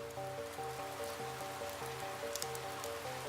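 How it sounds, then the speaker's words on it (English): Steady rain falling in Amsterdam, a continuous even hiss that stays level throughout, with sustained musical tones playing underneath. "Rain."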